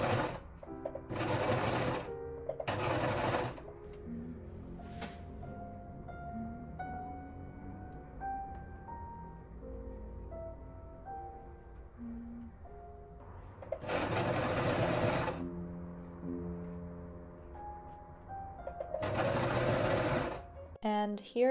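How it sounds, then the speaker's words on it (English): Domestic sewing machine stitching the front and back of a 19th-century-style cotton chemise together, running in several loud motor bursts of about one to two seconds each, with pauses between them and background music throughout. "I am pinning the back and the front of the chemise to then sew them all together"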